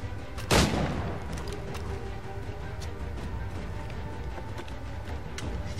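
A loud gunshot rings out in Assassin's Creed III, followed by distant scattered shots and hoofbeat-like clatter over a busy outdoor game ambience.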